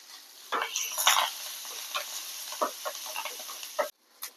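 Onions and curry leaves sizzling in a pan, with a hissing fry broken by scattered spoon scrapes and clinks, stopping abruptly just before the end with no speech.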